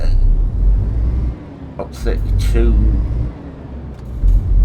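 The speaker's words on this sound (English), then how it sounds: "This is a Man TGX. I've got 400 horsepower" A MAN TGX truck with a 400 hp engine hauling about 33 tons in Euro Truck Simulator 2, a loud low engine drone running under someone talking.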